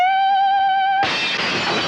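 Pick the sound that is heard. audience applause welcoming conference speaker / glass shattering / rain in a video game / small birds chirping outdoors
glass shattering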